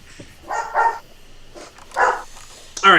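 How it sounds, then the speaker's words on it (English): A dog barks indoors, nearby, letting out about four sharp barks in quick succession while people talk in the background. "Alright, I gotta go shut up that damn dog."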